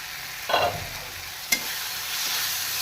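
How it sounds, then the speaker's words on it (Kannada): Flat hyacinth beans (avarekai) fry and are stirred in a pan for a gojju: a steady close sizzle, broken by two sharp spoon scrapes about a second apart. "ಚೆನ್ನಾಗಿ ಫ್ರೈ ಚೆನ್ನಾಗಿ ಮಿಕ್ಸ್ ಮಾಡಿಕೊಂಡು"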